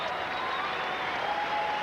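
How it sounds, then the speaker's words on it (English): Arena crowd at the 1993 McDonald's All-American Boys Game in the Mid-South Coliseum, Memphis, applauding basketball player Henderson, a broad, even roar of distant clapping and crowd noise sustained throughout. "Henderson getting a nice round of applause."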